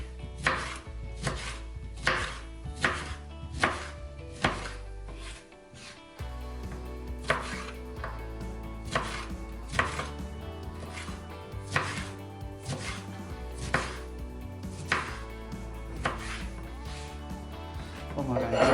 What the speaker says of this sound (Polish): Kroimy sobie na pół i na paseczki.